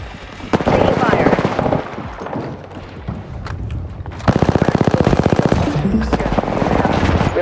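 Gunfire in Apex Legends ranked play: bursts of rapid automatic fire, loud and close, with a long rattling stream of shots in the second half and a voice talking in between.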